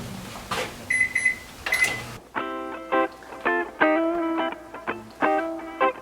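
A microwave oven heating milk for bread-roll dough runs with a steady hum, then gives a run of loud, evenly spaced electronic beeps once it finishes.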